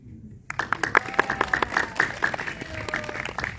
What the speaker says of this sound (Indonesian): Sebelumnya saya ingin memberikan aplaus untuk film ini.